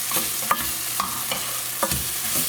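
Green beans and tomato stir-fried in a pan, steady sizzling with repeated sharp scraping and tapping strokes of a utensil as the tomato is mashed, close and alone without voices.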